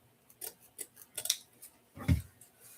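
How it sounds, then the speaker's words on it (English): Scissors snipping ribbon while making a rustic burlap pumpkin wreath, a run of sharp close clicks and snips followed by one heavier, louder cut near the end. "I should maybe use my other pair of scissors for this."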